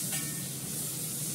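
Ginger paste sizzles hard in hot oil in a pan, a steady bright hiss of frying with no break and no voices.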